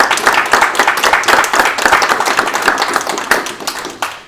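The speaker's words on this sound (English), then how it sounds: "I invite you for a warm round of applause for them" An audience at a Scala meetup gives its sponsors a warm round of applause: loud, close, dense hand clapping that carries on steadily for several seconds before tapering off, with one last sharp clap at the end.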